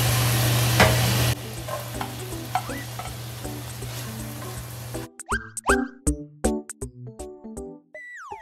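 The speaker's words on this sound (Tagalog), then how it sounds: "Sosotein na natin yung ating onion." Onion sautéing in a pan for seafood pesto pasta: steady broadband sizzle for the first five seconds, then sharp clinks and stirring knocks with quieter frying beneath.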